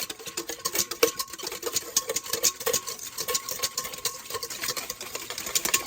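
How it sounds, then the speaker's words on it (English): Half and half whisked in a bowl for homemade L. reuteri yogurt, a rapid continuous rhythmic clicking and scraping of the whisk against the bowl, close and steady throughout. "I'm just going to whisk this around"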